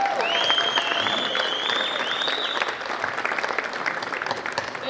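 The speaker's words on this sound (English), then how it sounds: "Let's give them a round of applause." An audience applauds honor roll students at a school academic awards ceremony, steady dense clapping that holds throughout, with a high whistle-like tone near the start.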